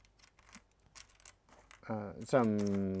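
Blank double-shot plastic keyboard keycaps clatter together in a quick run of light, sharp clicks, and a voice-like tone takes over near the end.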